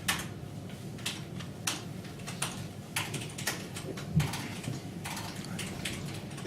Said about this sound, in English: that's my typing